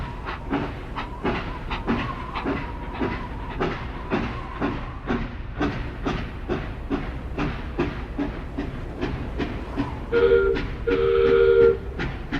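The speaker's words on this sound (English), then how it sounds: "Gordon let out a horrible, broken whistle, loud and uneven, and his wheels screeched against the rails as he tried to move" A steam engine rolls along the rails with a steady, loud clickety-clack of wheels. Near the end comes a harsh, uneven whistle blast of two broken pulses that screeches above the rhythm.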